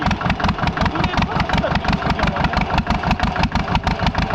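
A freshly overhauled Zetor tractor engine chugs close by, a rhythmic pulsing putter with regular loud beats and a rough, uneven idle.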